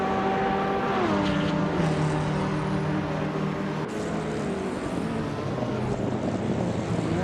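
Engine roar of racing cars in a video game race, one a 1978 BMW M starting in third place, a loud continuous drone with shifting pitch and wind-like rush throughout, no talk.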